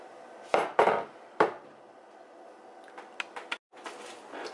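A fork mashes sweet potatoes in a bowl, producing a few quiet, sharp clinks and scrapes against the bowl in irregular bursts with pauses between, up close and without talk.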